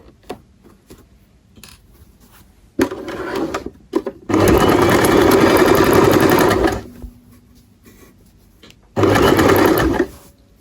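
A sewing machine stitches a men's trouser side pocket in loud, close bursts: a short run, then a long steady whirring run, a pause, and another burst near the end, with quiet handling in between.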